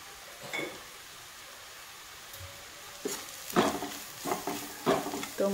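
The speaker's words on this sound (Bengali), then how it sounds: "তো মশলাটাকে আমি একটু কষিয়ে নেব।" Coriander and turmeric powder spices being sautéed for rajma, with a low sizzle broken by several scraping stirs of a spoon in the pan, growing busier toward the end.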